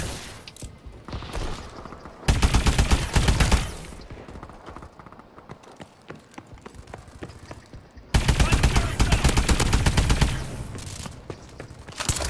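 Rapid automatic gunfire in a first-person shooter match, two long loud bursts of fast repeated shots separated by quieter stretches of scattered firing and mechanical clatter.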